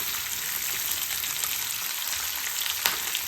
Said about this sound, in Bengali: আদার কুচিটা এবার দিয়ে দিই দিয়ে একটুখানি ভাজা ভাজা করবো